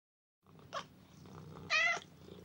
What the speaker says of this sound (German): Zu Hause haben wir eine Katze.